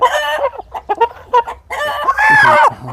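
A rooster gives several short, close clucks and calls, followed by a louder, drawn-out crow near the end.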